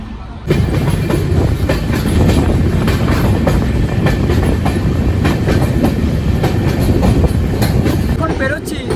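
An Amrit Bharat Express train runs steadily on its tracks, the loud, continuous rumble and rattling clatter of wheels and carriages filling the whole stretch after a brief quiet start.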